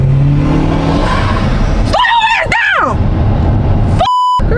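A car driving fast and accelerating inside the cabin, with a steady engine drone, a sharp rising-and-falling rev in the middle and a short electronic beep near the end.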